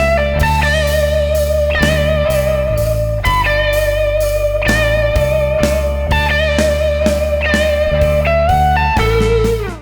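Slow blues electric guitar lead, played with a full backing band: bent, sustained single notes and expressive phrases ring out loud and continuous for nearly ten seconds, with no talking.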